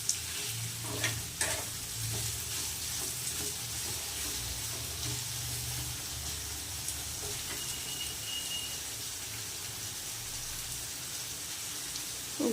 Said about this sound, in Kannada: ಟೊಮೊಟೊನ ಚೆನ್ನಾಗಿ ಸ್ವಲ್ಪ ಅದು ಎಣ್ಣೆಲಿ ಫ್ರೈ ಆಗಬೇಕು